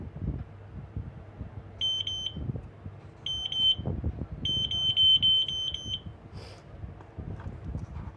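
A needle detector, a metal-sensing unit used in garment stitching, beeps as it picks up a tiny metal ball. The high-pitched beeps come in short quick bursts and runs against a quiet background with faint handling rustles.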